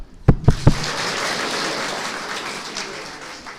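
Three sharp, evenly spaced hand claps from an audience at a Brahma Kumaris talk on positive thinking, followed by a soft wash of scattered clapping and crowd noise fading away.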